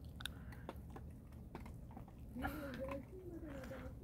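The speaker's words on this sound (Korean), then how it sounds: "애들 뼈다구 참잘 먹네." Dogs gnawing on bones, with soft close crunching and chewing sounds and a brief squeaky whine partway through, at a low level.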